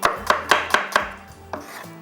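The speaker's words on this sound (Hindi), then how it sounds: "तो यहाँ पर प्याज को कटिंग करूँगी" Onion being chopped with a knife on a board: five quick, sharp, evenly spaced chops, then a pause and one or two more, close and clear with no voices.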